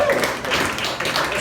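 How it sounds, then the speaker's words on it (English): Comedy-club audience at a brewery clapping, a short, fairly loud burst of many hands with what sounds like a voice over it. "Just clapping for that part to be over."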